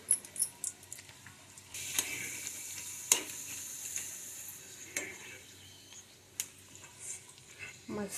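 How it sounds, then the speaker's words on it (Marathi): Puris deep-fry in hot oil with a soft, uneven bubbling sizzle, broken by clicks and scrapes of a slotted spoon at close range. "पुरी तळून घेऊया"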